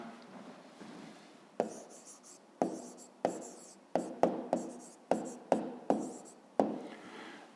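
A pen writes an answer on paper during a fifth-grade maths exercise, giving a series of sharp scratchy strokes and taps in an uneven rhythm, close and fairly quiet, with no talk over it.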